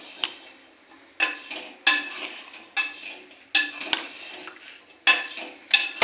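A spoon scooping sugar into tea powder in a metal pot, heard as several sharp clinks and scrapes in an uneven rhythm, close and fairly loud, with no talking.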